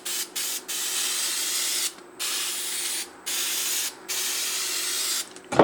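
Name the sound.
foam cleaner spray on shoes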